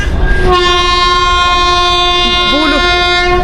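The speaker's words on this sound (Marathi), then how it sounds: "एक रेल्वे पण हॉर्न वाजवते" A loud, sustained train horn blares at Kurduwadi, with a steady multi-tone chord holding for several seconds over rumbling rail noise and a brief bending tone near the end.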